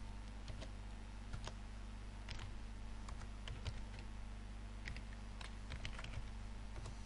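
Computer keyboard typing at a desk: scattered light key clicks over a steady low hum, irregular and fairly faint, with no voices.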